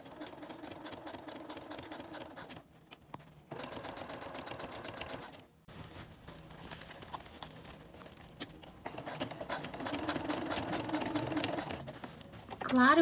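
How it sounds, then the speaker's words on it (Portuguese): A sewing machine stitches down over folded cord on a ballet bodice in repeated mechanical bursts, with short pauses between runs. It is fairly close and moderately loud, and a voice talks at times. "Agora chegou a hora da gente passar a costura em cima da onde o cordem está dobrado."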